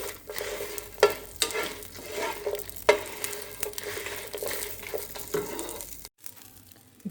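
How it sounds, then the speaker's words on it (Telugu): Garlic cloves frying with dried red chillies in a pan, a soft steady sizzle broken by intermittent scraping stirs, close and moderately loud, ending in a brief quiet moment with no talk. "ఒక 8 ఎల్లిపాయలు వేసుకొని కొంచెం ఫ్రై చేసుకుందాం"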